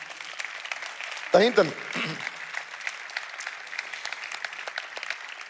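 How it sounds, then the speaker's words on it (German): A church congregation at an ICF Church service applauds, a textured clapping wash running throughout the clip, with a voice briefly rising over it near the start. "Applaus, komm, Applaus."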